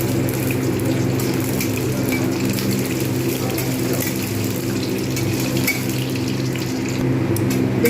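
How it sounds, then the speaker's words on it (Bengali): Lentil badi fry in hot soybean oil, giving a continuous dense bubbling sizzle at an even level, with a faint steady mechanical hum running underneath. "বড়িগুলোকে আমি এবারে ভেজে নেবো ভালোভাবে"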